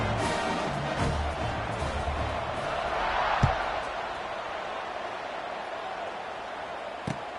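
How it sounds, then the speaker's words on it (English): A stadium crowd buzzes in College Football 26 with a broad, continuous roar that swells slightly and then eases, with a couple of sharp thumps. "this crowd is buzzing after that last score"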